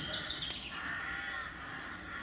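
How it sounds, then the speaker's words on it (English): Crows caw near a woodland feeder, mixed with chirping songbirds, a few calls at moderate distance over a steady outdoor background with no talk. "The crows, all the songbirds."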